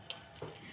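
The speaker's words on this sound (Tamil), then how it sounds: "சிக்கன் பொரிச்ச கடாயிலே நான் இப்போது ஃப்ரை பண்ண போகிறேன்." Oil left from frying chicken crackles and sizzles in a hot pan, with a soft stirring scrape and a brief metallic clink, close and fairly quiet.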